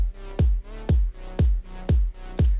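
A thick electronic bass pumps in a steady rhythm, ducking sharply under six regular kick-like hits, then swelling back between them.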